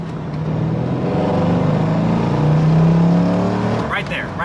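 A V8 in a salvaged, totaled Corvette revs up toward redline with a rising, slightly ragged drone that seems to break up at high RPM, loud and steady throughout.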